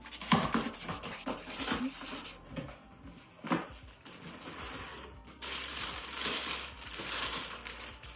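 Crinkling, scratching and tearing of packaging as a Stylophone Theremin box is opened up close, in uneven bursts with brief pauses between.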